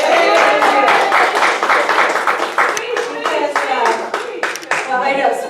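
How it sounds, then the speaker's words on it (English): Congregation at a church sermon clapping by hand in a brisk, dense round of applause, close and loud, with voices cheering and talking over it throughout. "So let's applaud her."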